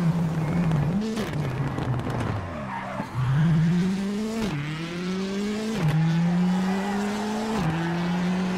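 In the WRC 8 game, a rally car brakes hard and skids, tires squealing between loud engine revs that repeatedly climb and drop in pitch, close and continuous.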